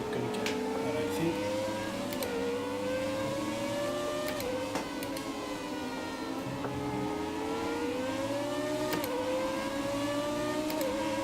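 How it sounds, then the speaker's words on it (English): A Formula 1 car engine in the racing game F1 2017 revs very high with a steady, loud, tonal whine that rises and dips as the revs change, with a few brief clicks over a constant rumble. "These rev so high compared to this year's cars."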